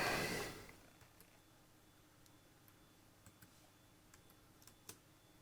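Quiet, sparse clicks of keys on a computer keyboard as a command is typed on a Raspberry Pi, following a louder burst of noise at the start; faint and close with no talk.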